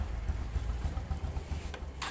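A Honda Supra X 125 motorcycle with about 95,000 km, a smooth non-smoking engine and a trail tire on the rear, idles nearby with a steady low throbbing pulse and no talking.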